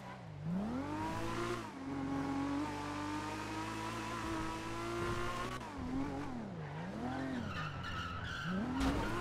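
Car in GTA roleplay revving and skidding, the engine note rising and falling in waves with sustained tire squeal, loud and close, nearly continuous throughout.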